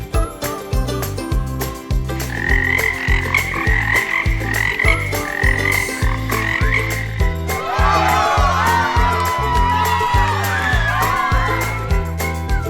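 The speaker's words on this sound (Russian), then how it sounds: "Как говорит лягушка?" A frog croaks in repeated bursts over a steady, rhythmic musical backing, with the calls growing busier and more layered in the second half.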